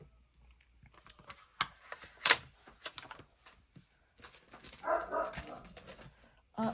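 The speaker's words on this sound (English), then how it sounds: "The dogs are barking." Dogs bark at a distance in short irregular bursts, with scattered crafting clicks and taps of stamps and paper nearby during a junk-journal session.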